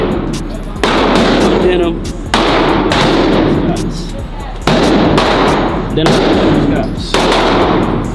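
Gunshots ring out at an indoor gun range as a steady run of loud, sharp reports, roughly one to two seconds apart, close and reverberant, while people talk nearby.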